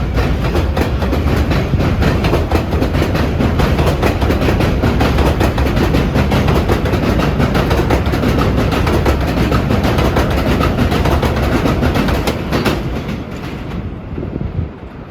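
New York City 7 Line subway train running: loud continuous rumble and rattling clatter of wheels on track, steady throughout and fading slightly near the end.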